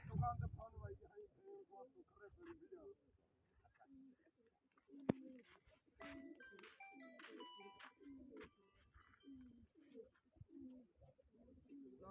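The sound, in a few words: pigeons cooing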